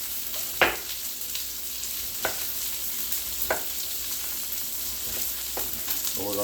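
Chicken for chicken francese frying in a pan with a steady close sizzle, a few sharper crackles and stirring clatters breaking through, and no voices.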